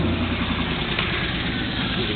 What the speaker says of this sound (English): It seems like my oil gauge fluctuates, and when that happens, I start getting an engine knock